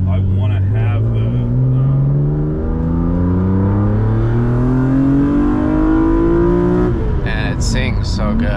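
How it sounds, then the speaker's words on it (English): A BMW E36 M3 with a swapped-in OEM S54 engine revs hard, its note climbing steadily through the range before a sharp change near the end, loud and close. "it's super cool, and it's so BMW, that sound, and it's so S54"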